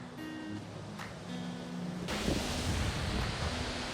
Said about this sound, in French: Il fait un vent de fou aujourd'hui.